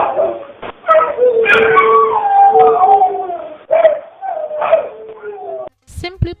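Several dogs at a commercial dog breeder howl in long, wavering, overlapping wails, broken by sharp yips and barks, loud and close with short gaps between.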